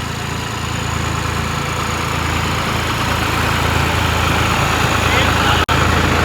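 John Deere and New Holland farm tractors running together at 1000 RPM, a loud steady close diesel engine drone with a constant low rumble, broken by one brief dropout near the end.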